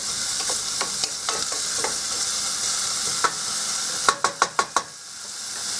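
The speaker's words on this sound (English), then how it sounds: "I'm going to put my onions in there, because I want those to cook a little bit and get translucent." Chopped onions sizzle steadily in a hot pan for Spanish rice, a bright continuous frying hiss broken by several sharp clicks and knocks of a utensil, the last few coming in a quick run of about five taps.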